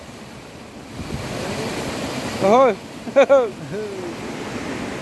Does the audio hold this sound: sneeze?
no